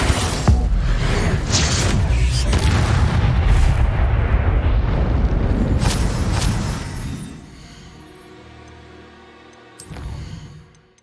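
Heavy rumbling spell explosions and booms in Hogwarts Legacy combat, a dense loud barrage over several seconds that fades to quieter effects, then one more blast near the end.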